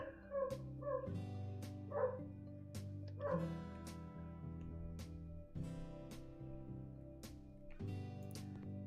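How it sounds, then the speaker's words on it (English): A dog barks upstairs in the House Flipper video game, about ten sharp, evenly spaced barks and yips over a steady low musical drone, with no talking. "you're gonna be hearing the dog upstairs again."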